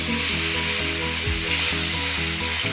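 Banana fries in hot ghee for a payasam, giving a loud, close, continuous crackling sizzle with no voices.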